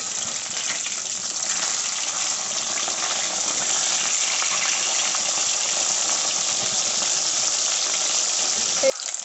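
Fish sizzling in hot oil right after being flipped in a pan, a continuous loud crackling hiss that holds steady throughout, with a brief clatter near the end.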